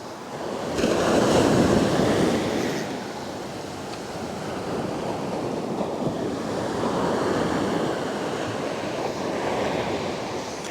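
Ocean surf washes onto a beach at high tide in a steady, loud roar, swelling and easing as waves break close by, with wind buffeting the microphone.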